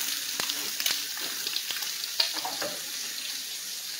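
Bacon fries in a kitchen pan for a breakfast with fried potatoes, giving a steady soft sizzle and hiss with a few light clinks and taps, fairly quiet and continuous with no speech.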